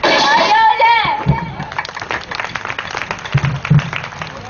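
Audience clapping at a school annual function stage play, brief bursts of applause mixed with hubbub and voices, following a performer's shouted line; uneven and fading toward the end.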